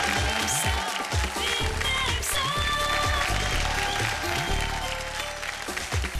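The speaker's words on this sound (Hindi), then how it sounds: "जोरदार तालियां प्रियंका जी के लिए" Television studio audience applauding a contestant on a reality show, a steady wash of clapping running throughout under loud music.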